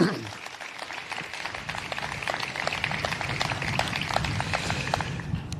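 Audience applause at a groundbreaking ceremony honoring labor leaders and workers, a steady wash of clapping that swells slightly and holds, with some voices mixed in.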